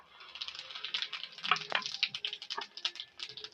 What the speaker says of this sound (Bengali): এই ডিম ভাজার তেলের মধ্যে 3টে শুকনো লঙ্কা দিয়ে দেবো